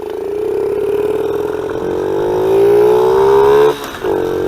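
A stock Honda XR50 minibike with a 3-speed automatic clutch accelerates on a top speed run, its small engine whining upward in pitch, close and loud, then dipping sharply as it shifts before climbing again.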